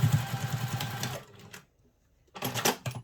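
Sewing machine top stitching a travel satchel, a steady fast whirring run for just over a second, then a pause, then a second short burst of stitching.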